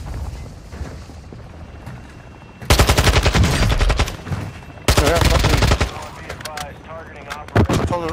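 Loud bursts of automatic gunfire from a weapon in the video game DMZ, two long sustained volleys and a short final burst, close and dominant, with muffled talk between them.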